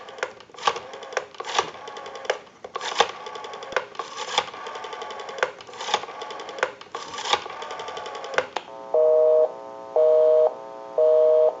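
Western Electric 302 rotary dial desk telephone being dialed: a series of clicking dial pulls and returns with whirring, followed by three evenly spaced loud busy-signal tones, close and clear with no talk.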